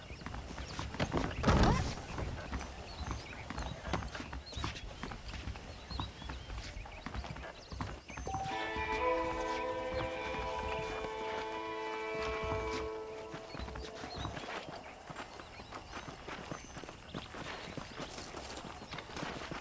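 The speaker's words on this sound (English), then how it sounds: "The horses are saddled up over here." Horse hooves clip-clop at a steady walking rhythm in the Red Dead Redemption video game, close and clear, with music and game ambience around them.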